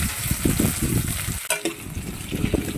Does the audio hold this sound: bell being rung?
no